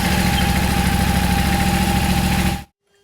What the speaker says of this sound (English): we're going to fire it up and let it run for a little bit